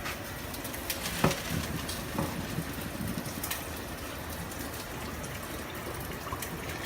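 Hot pasta water pours from a pot into a kitchen strainer, a continuous gushing, trickling wash with a few clanks of the pot, moderately loud and close with no voices.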